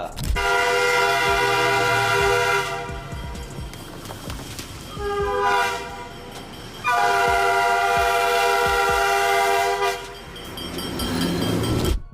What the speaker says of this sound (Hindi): यहाँ पर जब ये बंदा रेलवे ट्रैक पार कर रहा था तभी अचानक एक तेज रफ्तार ट्रेन उसकी ओर आ जाती है।